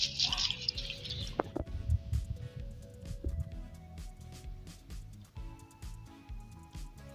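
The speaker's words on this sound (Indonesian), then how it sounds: "Nah, cairan E4 yang sudah diberi oleh larutan gula. Kita tuang merata." EM4 liquid mixed with sugar solution is poured over organic waste for compost, giving soft irregular splashes and drips with a brief brighter trickle at the start, close by and fairly quiet.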